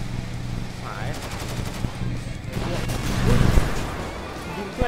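Rapid gunfire from the GTA V video game crackles in bursts over a low steady background hum, while a player talks excitedly on top of it.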